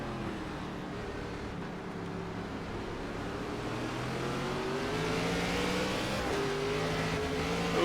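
Race car engine in an iRacing NASCAR ARCA West Series race at Portland, revving hard and steady throughout, its pitch climbing and shifting as the car accelerates, with other cars droning close around it.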